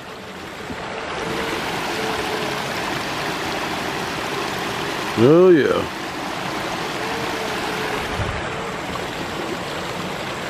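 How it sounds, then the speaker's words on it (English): Water spills steadily down a small man-made waterfall in a botanical garden, a continuous close rushing wash that runs the whole time, with a brief spoken remark partway through. "Just the sound of that water."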